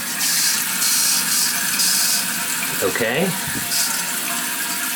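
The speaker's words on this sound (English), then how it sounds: "Tank is filling up." Water steadily rushes and hisses into a toilet tank after a bidet installation, a constant close fill sound with a brief spoken word partway through.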